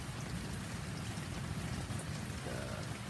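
Steady rain drums softly on a rented tent at a campsite in Cabangan, Zambales, a constant close patter with no talking.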